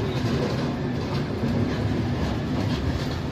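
Inside the Pondicherry–New Delhi Express near Chennai Egmore, the train rolls along the rails with a loud, continuous rumble and rattle heard from on board.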